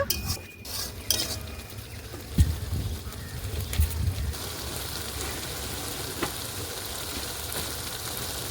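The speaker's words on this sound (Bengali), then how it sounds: "এবার ভালো করে মশলাগুলো সব কষিয়ে নেব।" In a pan, ground spice masala is fried down with a little water, giving a soft continuous sizzle with scattered scraping and clinking as a spoon stirs, near and moderately quiet, with nobody talking.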